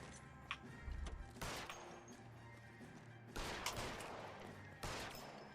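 Gunfire in the video game 1947 Simulator: a few sharp shot bursts separated by pauses, faint in level but cutting clearly above a low background hum.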